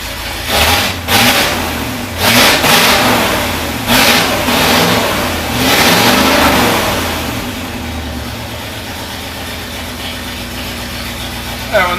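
A 1973 International Harvester Loadstar Blue Bird bus engine revs in several surges, then settles into a steady, close idle.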